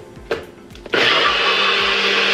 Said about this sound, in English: we'll blend her for 20 seconds